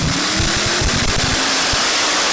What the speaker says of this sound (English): this behemoth 6-engine tractor is just going to town